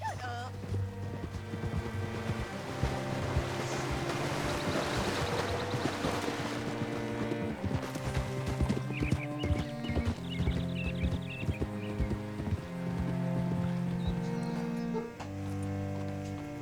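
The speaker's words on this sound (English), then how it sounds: "Hitch your horse up here." Horse hooves clip-clop steadily in the game Red Dead Redemption 2, a rhythmic trot half-buried beneath a full, sustained orchestral music bed that runs throughout.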